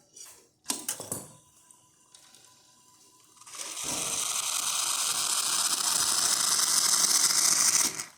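A few mechanical clicks and a low hum, then a Lucca M85 espresso machine whirs and hot water streams out with a steady rising hiss until it stops.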